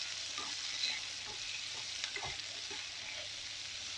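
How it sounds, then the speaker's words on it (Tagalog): Fish and tofu fry in a pan under a steady soft sizzle, with a few brief scraping knocks as a utensil stirs them together, close and moderately quiet throughout. "Haluin na natin yung guys. Sama-sama na sila dyan."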